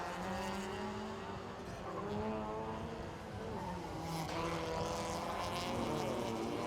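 TCR touring race cars compete at Bangsaen circuit in Thailand during the 2018 TCR Asia round 9, engines whining as pitch rises and falls across several gear changes, with a second car's note layered in as they pass.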